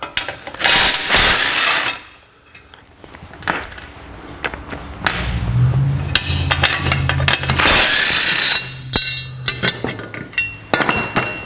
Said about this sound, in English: Let's take these fender braces off.